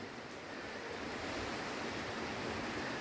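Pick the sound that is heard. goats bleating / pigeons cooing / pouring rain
pouring rain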